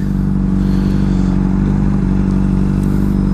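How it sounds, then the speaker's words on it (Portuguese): A Honda CBR600RR with a misfiring engine idles loud and close, its steady drone running throughout with a rough, uneven clatter under the hum. "eu não gosto de andar com a moto falhando"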